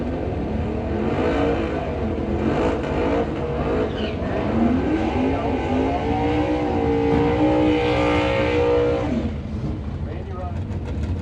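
A 1970 Chevelle SS waits in the staging line at a drag strip, its engine loud and close, swelling in a rising rev near the middle before settling back to a rumbling idle.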